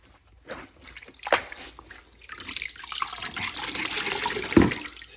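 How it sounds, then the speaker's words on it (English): Dirty grout water pours out of a grout wash bucket with a splashing, trickling rush, preceded by a few knocks and sloshes, then building into a steady stream with a sharp clunk near the end. "See that dirty water falling right out?"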